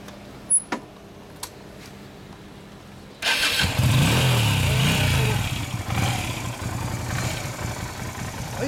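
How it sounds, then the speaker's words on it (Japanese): A Yamaha DragStar 250 chopper-modified motorcycle is cranked after a few faint clicks, then its engine catches and settles into a loud, rumbling idle nearby, steady with slight fluctuations. "ほなエンジンかけてもらえる？"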